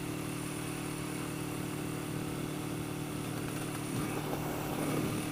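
A 1980 Yamaha XS400 Special II motorcycle engine catches and warms up, running loud and close with a rough, uneven buzzing roar that swells slightly toward the end.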